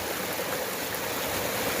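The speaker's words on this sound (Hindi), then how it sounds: "ये देखिए, आप देख सकते हैं पानी कितना तेज चश्मे का पानी है" Fast-flowing mountain spring water in a stream in the Khaplu valley rushes in a steady, even hiss, sounding fairly soft and continuous with no voices.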